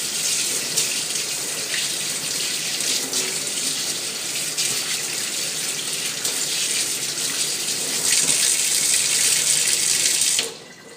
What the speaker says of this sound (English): first I'm going to wash off the majority of this nastiness before I take some soap to it